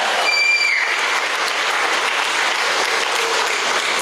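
Sustained applause from a crowd at a business meeting, honoring a leader: dense, steady clapping throughout at even loudness, with no pauses.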